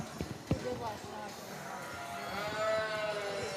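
A Southdown sheep bleats at a junior livestock show's sheep event, a drawn-out cry rising late in the clip amid constant arena crowd noise, hoof sounds and someone talking over a loudspeaker.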